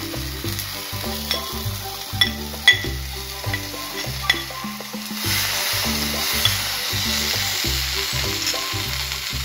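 Okra tossed into hot tempering oil with asafoetida and turmeric crackles and sizzles steadily over a dense frying hiss, joined by some stirring clatter, close up with no talk.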